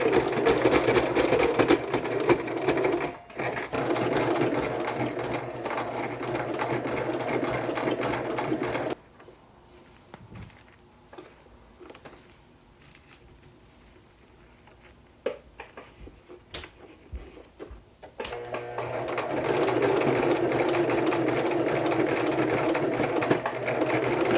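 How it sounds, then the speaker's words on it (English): Sewing machine stitching down both edges of a homemade anime cosplay headband, a steady motorized whir running in two long bursts with a quieter pause between them, no talking. "I'm going to go ahead and sew both of these edges down"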